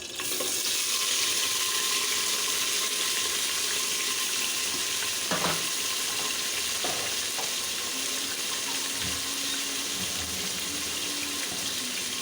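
Spices, bay leaf, onion, tomato and green chilli sizzle in hot oil, a dense, steady hiss that runs throughout with a few faint clinks and stirring scrapes, as chicken curry gets started.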